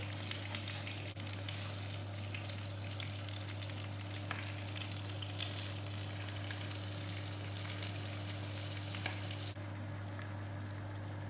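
Potato pieces fry in hot sunflower oil, giving a steady, dense sizzle with a constant low hum underneath and a few small crackles, continuing unbroken until it thins out near the end.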